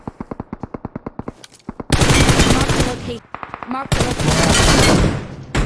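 Rapid gunfire from a mobile shooter video game: a quick string of single shots, then two dense, loud automatic bursts with brief pauses between them.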